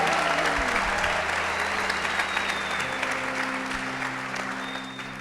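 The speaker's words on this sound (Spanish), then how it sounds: "¿Cuántos dicen amén y dan un aplauso al Rey de Reyes?" Congregation applauding during a Spanish-language church service, a sustained wash of clapping from many people that gradually fades, with faint background tones underneath.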